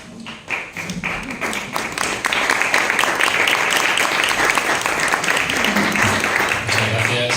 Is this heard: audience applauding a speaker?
yes